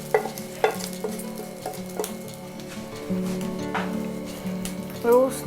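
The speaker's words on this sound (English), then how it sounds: "Now heat up a pan and add our crumbled cake mix." Crumbled gluten-free cake being roasted and stirred in a heated pan, giving soft repeated scraping and light sizzling near at hand, with a person talking over much of it.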